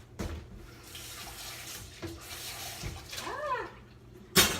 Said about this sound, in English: And then I'm gonna rinse this real quick.